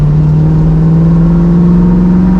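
A classic Ford Mustang Bullitt tribute car with a 4-speed gearbox revs its engine, a loud, close, steady drone that climbs slightly in pitch over two seconds, with no talking.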